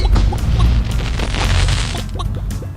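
Fireworks bursting in the mobile arcade game Crossy Road, a dense, loud barrage of overlapping booms and crackling pops running continuously without pause.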